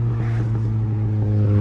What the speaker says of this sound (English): the truck can barely make it up this hill